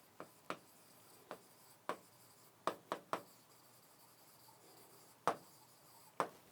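Chalk or a pen taps and scratches in short, sharp strokes during a biology lecture, about a dozen isolated marks spaced unevenly over a quiet room background.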